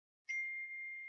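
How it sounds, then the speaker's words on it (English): A phone notification ding, one clear bright chime that rings out and holds steadily for about a second against silence. "that's my phone"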